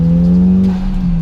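A Mitsubishi Evo 7 on a country road holds a loud, steady engine note at high revs, close up, easing slightly near the end.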